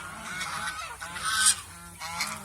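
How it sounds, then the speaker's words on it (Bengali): Geese on the water give loud, repeated nasal honks, several overlapping calls in quick succession from nearby birds, with no talking. "কয়েকটা হাঁস এখন ওই যে মিটিংয়ে ব্যস্ত আছে এই যে পানিতে আছে"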